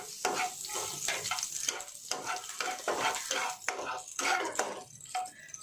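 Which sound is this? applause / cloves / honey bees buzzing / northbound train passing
cloves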